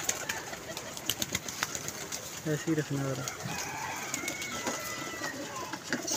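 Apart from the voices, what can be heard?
pigeons cooing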